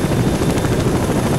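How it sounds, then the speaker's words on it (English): A helicopter in the video game STALKER: Shadow of Chernobyl gives a steady, loud rotor thrum with dense low chopping, heard alone for a brief moment. "There's a helicopter."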